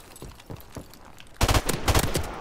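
Gunfire in Modern Warfare Remastered's Gun Game mode, starting with a few spaced shots and then breaking into loud, rapid bursts of close automatic fire, with no talking.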